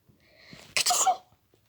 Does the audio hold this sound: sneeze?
yes